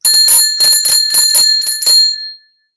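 A small bell, apparently fixed to a 2020 Indian Challenger motorcycle, is rung in a quick series of bright, loud, close dings with a ringing metallic tone, then fades out to silence.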